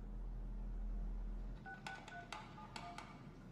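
Touch-tone telephone dialing in a horror film: a low hum cuts off, then a series of short beeping key tones is pressed one after another, moderately quiet.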